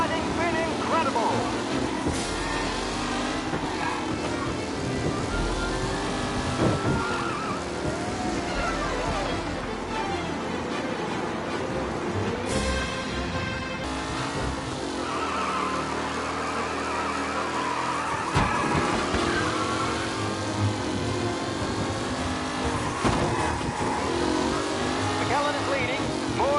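Race cars roar and rev through a race in Mafia Remastered, with steady loud engine noise that rises and falls throughout, under game commentary and talking.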